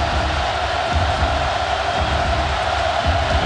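Penn State fans at a college football game against Alabama keep up a dense, steady roar across a big stadium, loud and unbroken, with no clear voice above it.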